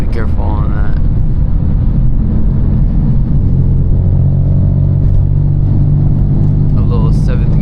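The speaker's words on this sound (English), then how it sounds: "A little 7th gear pull." A BMW M4 engine pulls hard in seventh gear, a loud, steady rumbling drone from inside the car with talk over it throughout.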